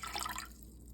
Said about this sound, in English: Put about 3 cups of water in here.